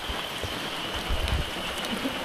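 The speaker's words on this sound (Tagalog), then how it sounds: "Dahil alas 5 na at hindi pa huminto ang ulan, pero paambon-ambon na lang." Light drizzling rain falling outdoors, a steady soft hiss with scattered patters and small drips throughout, no talking.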